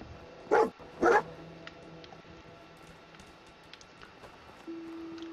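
Dogmeat, the dog companion in the video game Fallout 4, lets out two loud, sharp barks close by in quick succession, followed by quiet game ambience and a low steady tone.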